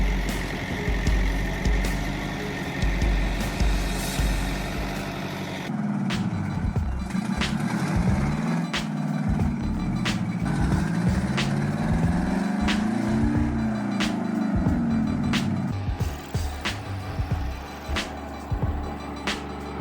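A heavy truck engine labours along a dangerous path, its drone rising and falling in pitch as it strains, with sharp clanks and knocks breaking through over about twenty seconds.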